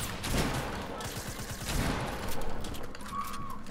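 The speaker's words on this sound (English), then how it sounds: "Why did my shotgun shoot?" Shotgun blasts in Fortnite, several sharp gunshot bursts close together over about three seconds, mixed with background game noise and some voices.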